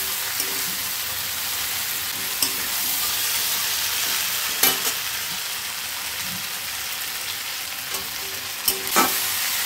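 Fried prawns, taro and potato curry sizzle loudly in a pan, a dense continuous frying hiss punctuated by occasional sharp spatula knocks and scrapes.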